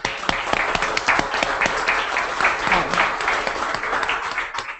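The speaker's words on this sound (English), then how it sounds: "So I just want to give a big round of applause to these folks." Applause from an audience at a foundation staff meeting, a steady, dense burst of clapping with individual sharp claps standing out close by, holding at an even level for several seconds, with a little talking underneath.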